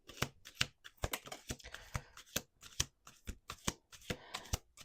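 Close, crisp riffle shuffles of a deck of playing cards, with quick fluttering bursts and snaps arriving in a steady, uneven rhythm with no talking.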